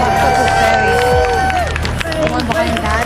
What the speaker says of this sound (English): Come on, big round of applause.